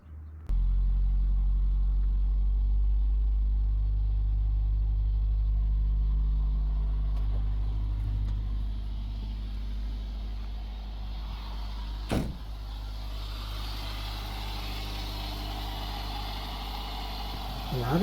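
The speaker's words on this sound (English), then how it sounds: "Allow the vehicle to idle for at least 10 to 15 minutes or until it's reached operating temperature." A car's engine idles after being started following a DIY head gasket repair, a steady low rumble that settles slightly quieter partway through, with one brief sharp click near the middle.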